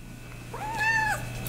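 A single short cat meow, rising then falling, close and clear against a quiet indoor hum in a garage.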